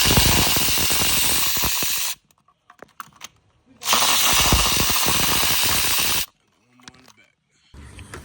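Two long, loud bursts from a battery-powered impact tool spinning out bolts on a 2018 BMW 540i engine during oil filter housing repair, each burst lasting about two seconds, separated by quiet clinks of handled parts.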